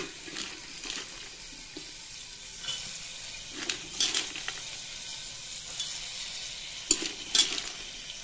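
Spices for tempering sizzle and crackle in hot oil alongside rajma, soybean and onion, heard as a steady close frying hiss with intermittent louder pops and stirring clinks and no voices.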